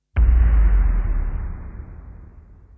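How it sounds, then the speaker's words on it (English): A single deep boom sound effect for a worship song chorus hits suddenly and loudly, then rumbles in the low end and slowly decays over about two seconds, with no voices. "So the boom sounds like this"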